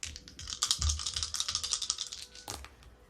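Dice rattled and tossed for a reading with a charm bag, giving a quick run of dense clicking and clattering taps up close, a busy burst that thins out, then a final sharp clatter near the end, with no talking.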